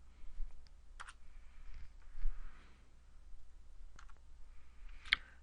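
Mouse clicks and keyboard taps while changing width and height values in Clickteam Fusion, a few sparse, quiet clicks scattered over a soft background hiss.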